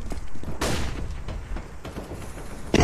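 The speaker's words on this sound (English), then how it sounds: "Deploying flashbang." A flashbang grenade detonates in a video game with a loud, sudden blast. Dense rumbling and crackling follow, and a second sharp burst hits right at the end.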